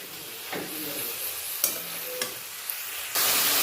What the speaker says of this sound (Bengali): চিকেনটা সব মশলার সঙ্গে ভালো করে মাখিয়ে নেব।